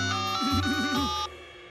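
A melodic phone ringtone plays a short warbling electronic tune over a steady tone, then cuts off abruptly.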